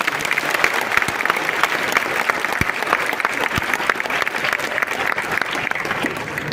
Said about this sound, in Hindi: आप सबके लिए जोरदार ताली होनी चाहिए